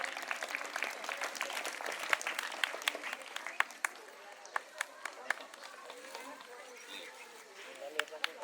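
Audience applauding at a school Independence Day event, a scattered, fairly faint patter of clapping from a crowd that continues throughout.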